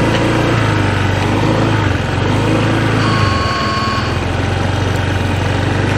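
A scooter engine holds at a steady, constant rev through a slow U-turn. It makes a loud, close, continuous drone with a faint whine on top and no speech.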